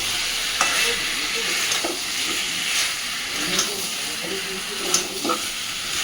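Potatoes and chicken pieces stir-fry in a pan over a gas flame, giving a continuous close sizzle broken by several sharp scraping clinks of the spatula.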